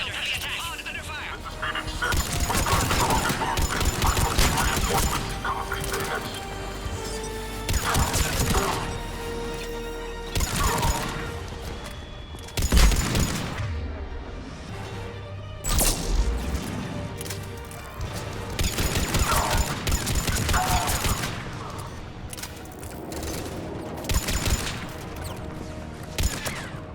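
Combat gunfire in the video game Mass Effect 3, loud bursts of rapid shots and crashing impacts in repeated clusters, with voices talking between and over them.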